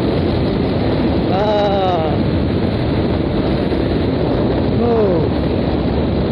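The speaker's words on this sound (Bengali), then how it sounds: "আমি শার্টের বোতাম লাগাইনি, যেই কারণে বাতাস বাজতেছে প্রচুর বুকে।" Steady, heavy wind roars against an open, unbuttoned shirt while riding a motorbike down an empty road. The rushing sound stays constant and loud, with a couple of faint, brief voice fragments.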